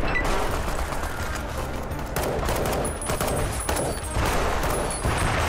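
Sustained gunfire at a tank in the video game Fallout: The Frontier, a loud, dense fusillade of overlapping shots and bursts running continuously with brief dips between volleys.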